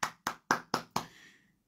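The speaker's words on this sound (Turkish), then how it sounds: "Bir alkış, bir maşallah alırım." Five sharp hand claps in a quick, even rhythm, close and clear, the last one ringing out briefly; no one speaks.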